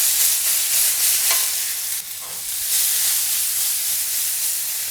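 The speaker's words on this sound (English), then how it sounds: "and just stir" Vegetables in a plant-based stir fry hiss and sizzle in a hot pan while being stirred, a steady loud frying sound with soft scraping strokes and no voices.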